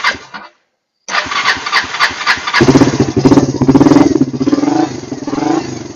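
Kawasaki Lakota 300 ATV engine with choke on after a carburetor repair cranks briefly, pauses, then catches and settles into a loud, close, steady idle.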